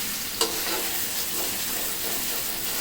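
Mutton masala for Nizami-style mutton fries in a pan while being stirred continuously, a steady sizzle with scraping spoon strokes and one sharp clink near the start.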